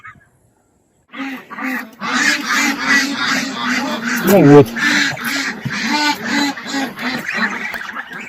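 Flock of geese honking and quacking outdoors on a farm while grazing on grass: a dense, loud, continuous chorus of overlapping nasal calls lasting several seconds, with a brief voice speaking near the start.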